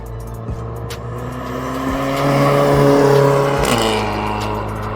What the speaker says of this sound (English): I think there is a Golf 7 GTI that's making its way down the strip